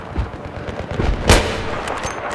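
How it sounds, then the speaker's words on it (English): Tank machine gun fire in Battlefield 3 on the Tehran Highway map, heard as scattered low thumps with one sharper, louder crack partway through, set against steady background rumble. "someone's shooting at me with a tank machine gun or something"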